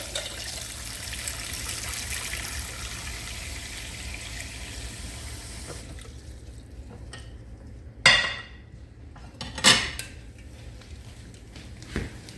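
Cold tap water running into a pot of boiled eggs, a steady splashing rush that stops partway, followed by a few sharp clanks of the pot, with no talk.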